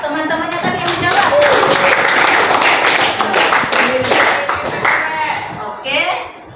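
A classroom of students clapping together in a burst of fairly loud, close applause that fades out, with a voice talking over it.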